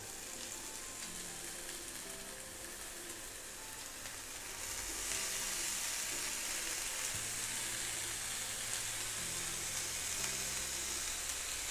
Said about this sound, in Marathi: व्यवस्थित परतून घ्यायचं आहे आपल्याला.